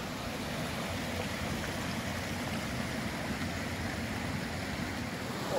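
Continuous rushing of water flowing through a swale after heavy rain, a steady broad outdoor wash at even level with no talk.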